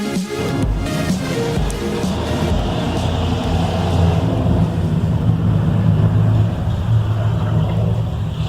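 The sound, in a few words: car passing by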